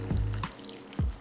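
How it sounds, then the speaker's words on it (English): Chicken stock poured into a paella pan over rice, heard as a few short liquid splashes and drips, faint and close, with no talking. "we are gonna take some chicken stock and just pour enough in there"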